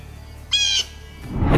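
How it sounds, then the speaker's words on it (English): A blue jay gives one loud, harsh, nasal call lasting a fraction of a second, followed by a burst of close rustling noise. "blue jays certainly do make a lot of noise"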